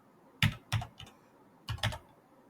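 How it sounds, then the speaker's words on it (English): Bursts of crisp keystrokes on a computer keyboard during a Python coding lesson, close and clear: two quick taps, a light one, then another pair after a pause. "Let me type it out."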